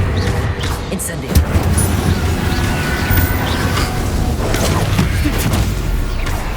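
A fire spell cast in the video game Hogwarts Legacy: a dense, whooshing burst of flame and impact noise that fills the stretch alongside ongoing combat sounds, with a voice talking over it.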